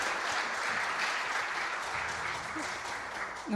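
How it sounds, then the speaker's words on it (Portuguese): Steady crowd applause at a live journalism event, a dense clapping roar that continues evenly and then cuts off abruptly as a voice begins to speak at the very end. "Não queria cortar os vossos aplausos."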